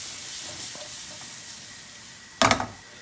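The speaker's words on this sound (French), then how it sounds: "Et on les fait sauter une nouvelle fois ensemble" Mushrooms and shallot sautéing together in butter in a pan, a steady soft sizzle with light stirring sounds, then a sudden loud burst of hissing as they are tossed, fading back down.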